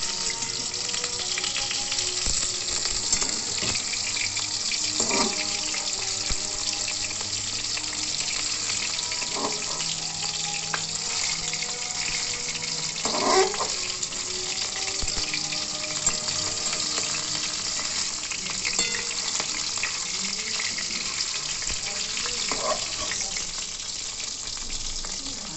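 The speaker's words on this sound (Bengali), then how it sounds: "এক পিস ভাজা হয়ে গেছে, আর এক পিস ভাজা।" Pieces of chital fish muithya, a dumpling, fry in oil in a pan with a loud, continuous crackling sizzle. Occasional soft clinks and handling sounds come through close by.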